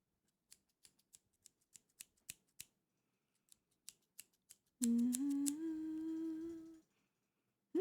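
Scissors snip close and crisp in a steady run of about a dozen clean, separate cuts during a hair-trim ASMR roleplay, followed by a few seconds of a loud, sustained, slightly wavering tone before falling quiet.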